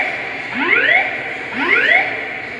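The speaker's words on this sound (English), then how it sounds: "The building alarm system has been activated." Building fire alarm in a train station, Springfield MA Union Station, sounding two loud rising whoop tones about a second apart in a reverberant hall.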